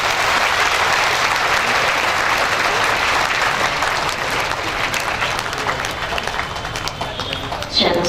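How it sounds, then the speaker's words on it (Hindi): A large audience claps loudly and continuously at a spiritual gathering, dense applause that eases slightly toward the end. "ताली बजा दे जोरदार।"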